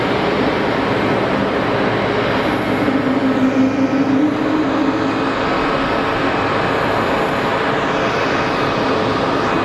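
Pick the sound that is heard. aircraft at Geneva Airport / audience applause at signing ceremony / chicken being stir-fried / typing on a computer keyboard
aircraft at Geneva Airport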